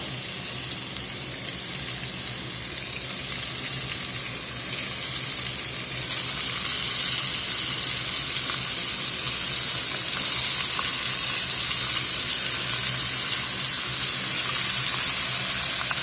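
Beef searing in oil in a pot, a dense, loud, continuous sizzle and hiss that holds steady and swells slightly partway through, with no talking.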